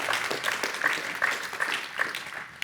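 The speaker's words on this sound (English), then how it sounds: "You may applaud." Steady applause from a commencement ceremony audience honoring a doctoral degree recipient, a dense, continuous patter of many hands at moderate distance with a few brighter accents throughout.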